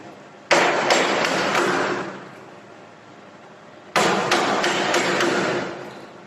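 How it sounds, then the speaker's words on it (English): A firmer chisel driven by mallet blows cuts a central slot in wood for a lap joint in a carpentry workshop, heard as two loud bursts of rapid, sharp knocks separated by a quieter pause. "See how firmer chisel is being used."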